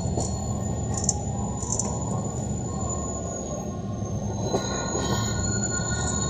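Train wheels on the Roca railway's Haedo–Temperley branch squeal at Ingeniero Brian station, a sustained high metallic screech over a loud, continuous rumble of rolling railcars, close by and with no talk.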